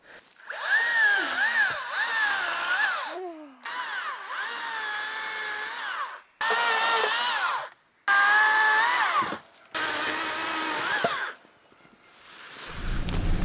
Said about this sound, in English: I'm gonna have to grab the chainsaw out and try